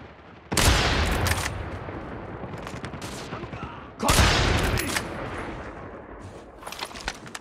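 Gunfire in Call of Duty Mobile, two loud bursts of shots each followed by a decaying rattle, with scattered quieter pops and sharp clicks between them.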